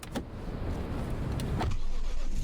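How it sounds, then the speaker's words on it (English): In a horror game, a car's engine turns over and settles into a steady hum that grows slightly louder over a couple of seconds, heard close with no voices. "You refuel the car and I can finally drive away."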